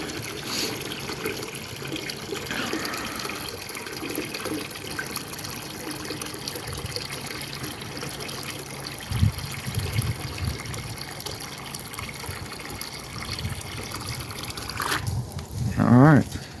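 Water from a hose runs into a 5-gallon bucket, a soft steady trickle and splash under talk, with a louder burst of splashing near the end.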